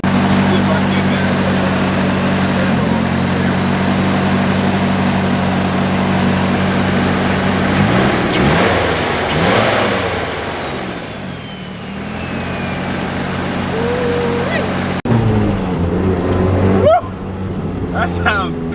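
A car fitted with a Garrett GTX2871R Gen 2 turbo runs with a steady mid-pitched engine drone, then revs up and settles back, loud and close, with a person speaking over it near the end.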